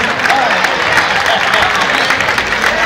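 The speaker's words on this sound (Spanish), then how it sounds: "Fuerte aplauso para ellos." Applause from an audience: a dense, steady wash of clapping mixed with crowd noise that stays loud and even for about three seconds.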